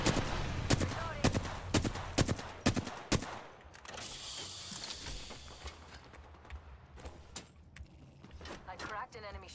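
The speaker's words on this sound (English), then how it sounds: "I'm getting shot at" Bursts of gunfire in a first-person shooter video game, sharp rapid cracks clustered in the first few seconds then thinning out to scattered shots, with a voice speaking over the action.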